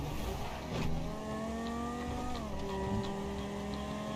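A car driven in GTA 5 Online roars along with its engine rising and dropping through gear shifts, a steady close game engine drone with a brief tire squeal or bump near the start.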